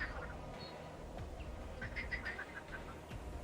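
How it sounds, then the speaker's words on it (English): Frogs croak faintly in an ambient game world built in Unreal Engine, a soft scattered chorus of short calls over a steady background hiss. "Can you hear the frogs?"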